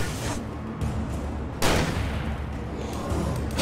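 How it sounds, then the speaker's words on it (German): Gunshots in the video game Alan Wake Remastered, with a few booming shots over a dense rumbling game soundscape and one sharp loud report in the middle, close and without speech. "Alan, du musst auch schießen, Junge."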